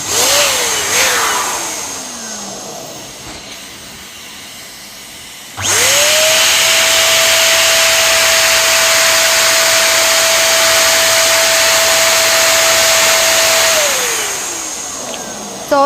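A transparent bladder balloon being blown up full, probably by an electric pump, a loud steady whirring drone that runs alone for several seconds after a shorter earlier burst.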